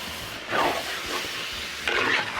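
Sliced onions sautéed for biryani in a pot over a wood fire give a steady soft sizzle, with brief louder bursts of hissing and scraping as they are stirred.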